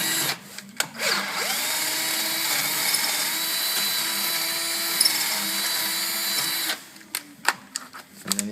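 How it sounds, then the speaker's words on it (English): A power drill with a lubricated bit bores out a damaged thread hole, giving a steady, close mechanical whine that runs for about six seconds and then stops, with short bursts of motor noise before and after. "So you start your drill bit out and you lubricate it. You drill out the hole."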